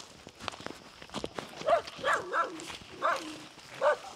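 Several dogs bark near a rural house, a few sharp barks close together in the latter half, with footsteps and faint rustling underneath at moderate volume.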